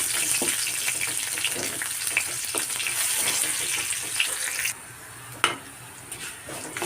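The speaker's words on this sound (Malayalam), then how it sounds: "ഇനി ഉണക്കമുളക് ഇട്ടെടുക്കാം കൊടുക്കാം ഇനി വേപ്പില കൂടി ഇട്ട് നന്നായിട്ട് വഴറ്റി കൊടുക്കാം" Dried red chillies and curry leaves sauté in hot oil in a pan, with a loud crackling sizzle and occasional stirring scrapes. The frying quietens partway through, and a sharp clank follows.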